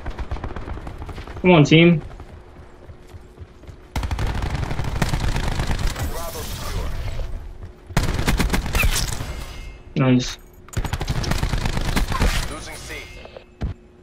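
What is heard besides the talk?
DMR rifle gunfire in the video game Black Ops 4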